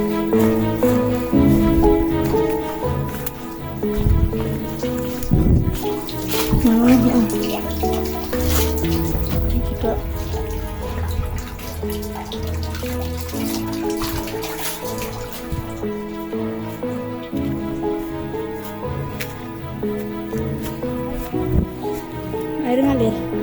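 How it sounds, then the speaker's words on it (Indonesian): Water runs from a tap on the summit of Mount Giyanti in Windusari, Magelang, a steady close splashing flow that continues under people talking. "Air ngalir."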